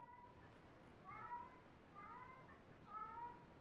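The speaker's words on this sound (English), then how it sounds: "If you can hear my cat outside, you know that he sounds like he's dying." A cat outside a door meows three times in a slow, evenly spaced series, faint and muffled.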